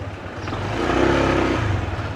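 Motorcycle engine with a new chain and freshly cleaned parts revs up close, a smooth mid-pitched hum that rises in a brief throttle blip, holds, then settles back toward idle with a light rhythmic pulse.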